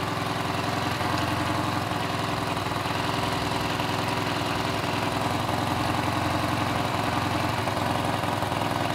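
Ford Escort Hobby with a 1.0 CHT engine and Weber 460 carburetor idling steadily, a close, even mechanical drone with a faint rhythmic pulse and no voices.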